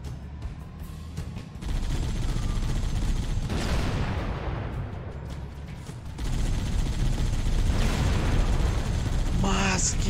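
Gunfire in the shooter game Halo: Combat Evolved, dense bursts of shooting and booms that swell in two long stretches, with someone talking over the action.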